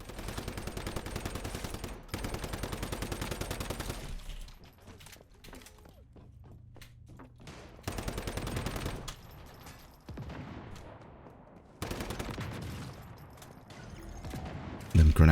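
Gunfire from the shooter game Once Human, using a shrapnel build, comes in loud rapid automatic bursts of a few seconds each, separated by quieter gaps with scattered shots and impacts.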